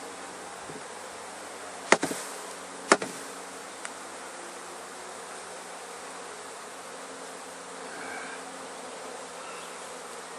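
Honey bees crawl over comb in an open hive, feeding on honey, with a steady soft buzzing drone throughout and a couple of sharp knocks near the start.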